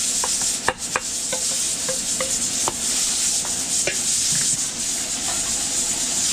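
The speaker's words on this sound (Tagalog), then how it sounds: "gigisa na natin ito" Ginger sizzles in a pan for catering-style cooking, a steady hiss broken by frequent light clicks and scrapes of stirring.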